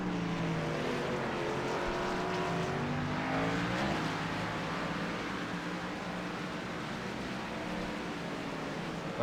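Race cars lapping Sonoma Raceway in an online racing game: a continuous, fairly distant whine of engines rising and falling in pitch as cars shift and pass, with no one speaking.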